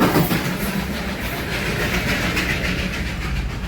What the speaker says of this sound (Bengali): বলতে বলতে টয় ট্রেন।